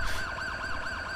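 An ambulance siren in the video game GTA 5 wails in quick rising and falling sweeps, steady and fairly loud over a low engine rumble, heard alone for just over a second.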